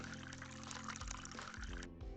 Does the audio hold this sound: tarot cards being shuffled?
no